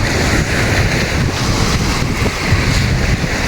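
Strong ocean waves and gusting wind at a shore, a dense continuous roar with wind buffeting the microphone, loud and steady throughout with no voices.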